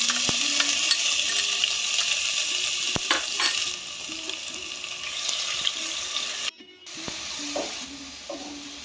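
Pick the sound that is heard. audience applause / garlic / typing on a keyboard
garlic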